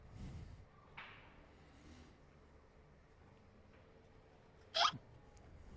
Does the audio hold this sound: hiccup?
yes